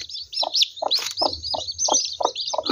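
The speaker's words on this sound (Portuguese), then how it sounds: "E a galinha é braba, viu?" An ill-tempered hen clucking close by on a small farm, a steady series of about eight short, evenly spaced clucks over chirpy bird sounds in the background.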